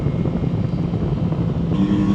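Yamaha XSR900 GP motorcycle engine running at a steady idle or cruise, a continuous low mechanical drone with a slight shift in tone near the end, close and fairly loud with no talking.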